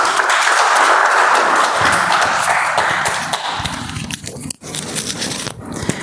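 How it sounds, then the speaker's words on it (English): Audience applause at a Toastmasters meeting, a dense, steady wash of many hands clapping that fills the room for several seconds before thinning out and breaking into scattered claps near the end. "Yes, applause, applause."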